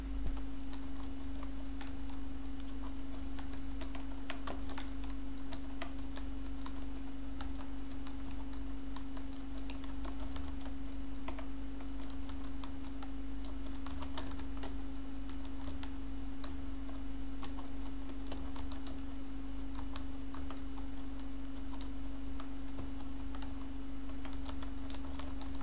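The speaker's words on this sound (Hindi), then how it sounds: "इसमें आप जैसे स्टार्ट टाइपिंग करेंगे तो देखते हैं, थोड़ी सी टाइप करते हैं" Steady typing on a computer keyboard during an RSMSSB LDC typing test, quick clicky keystrokes running continuously with a constant electrical hum underneath and no talking.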